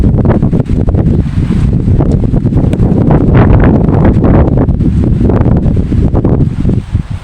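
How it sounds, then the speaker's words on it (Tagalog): Strong wind buffeting the microphone in an onion garden, a loud, constant roar with gusty surges throughout. "medyo malakas lang ang hangin"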